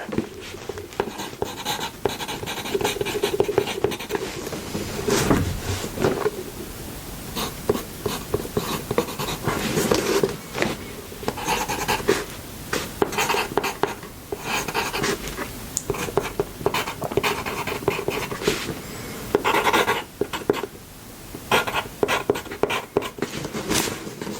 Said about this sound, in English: So let me just write down these equations here.